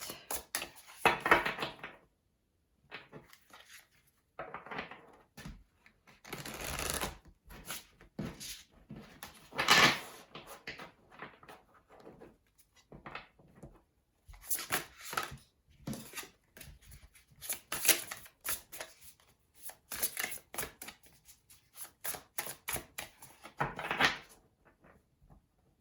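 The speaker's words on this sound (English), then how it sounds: "just shuffling a little bit." Tarot cards being shuffled by hand for a December pick-a-card reading, heard as irregular bursts of crisp riffling and card slaps with short pauses between, close and fairly quiet.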